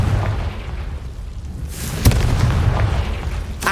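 A Confringo explosive spell in Hogwarts Legacy bursts with a sharp, loud boom around the two-second mark, preceded by a rising whoosh and followed by a lingering rumbling tail over steady game ambience.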